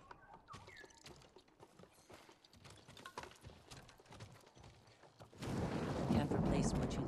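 Hooves clop along in an uneven rhythm beneath background activity in the video game Ghost of Tsushima, then a loud, broad rush of noise swells up and fills the last couple of seconds.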